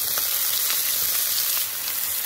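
Chopped small shallots frying in coconut oil after mustard seeds have popped, a loud, dense, continuous sizzle heard up close with no talking.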